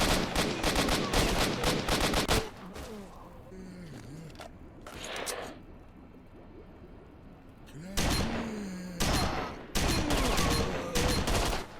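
Bursts of rapid gunfire and heavy shotgun blasts from combat in STALKER: Shadow of Chornobyl, loud and dense, coming in several clusters with quieter gaps of game ambience between them.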